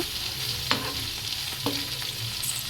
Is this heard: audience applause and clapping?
no